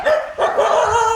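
A dog barks repeatedly at a house-warming gathering, a string of close, loud yaps with a brief pause partway through and no talk over it.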